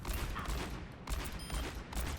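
McCree's revolver in Overwatch fires quick headshots: three sharp, punchy gunshot bursts spaced about a second apart, fairly quiet, with no talking.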